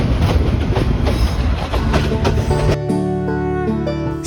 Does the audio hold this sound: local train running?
yes